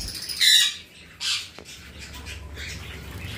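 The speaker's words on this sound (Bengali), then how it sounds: "এই যে আমাদের ব্ল্যাক ক্যাপ কনুর জোড়া, এই যে আঙুল দিয়েছি, এসো খেলা করো" A pair of black-capped conures gives two sharp, loud squawks close by while playing with a finger, the second cry a little softer. Quieter rustling and faint chatter follow, and no one speaks.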